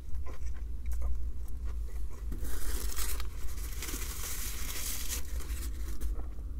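Crunchy bites into a freshly fried, crispy McDonald's fish burger with spicy sauce, heard close up as a few loud crackling chews and crunches over several seconds with no talking.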